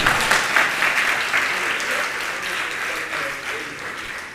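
Sustained applause from an audience at a Jain monk's spiritual discourse, a dense steady wash of many hands clapping without pause, loud and close.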